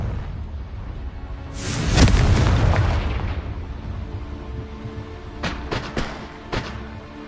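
A Confringo blasting spell from Hogwarts Legacy explodes in a deep rumbling boom that swells and fades over a couple of seconds, followed by a few sharper crackling bursts, with no talking.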